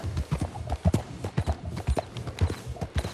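Horse hooves clip-clop at a trot in Red Dead Redemption 2, a steady run of close, distinct thuds with a faint whinny-like undertone and no talking over them.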